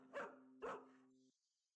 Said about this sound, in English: it's just the dog working